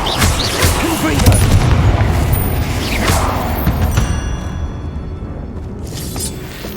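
Fiery Confringo spell blasts in Hogwarts Legacy go off as dense, booming crackles amid chaotic combat noise, with a player shouting spell names over the action.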